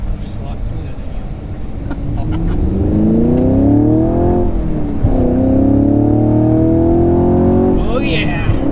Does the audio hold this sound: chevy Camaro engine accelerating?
yes